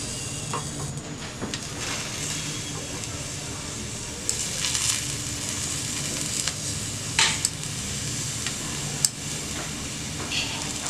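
Carrots roasting in a pan give off a soft, steady sizzle while being turned, with a few small clicks and scrapes of the utensil against the pan breaking through now and then.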